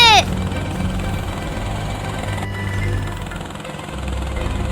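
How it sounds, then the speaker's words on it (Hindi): Cartoon helicopter flying, a steady low rotor drone and engine rumble that holds throughout, starting after a short whistling sweep at the opening. "चिंटू हेलीकॉप्टर तेज चला"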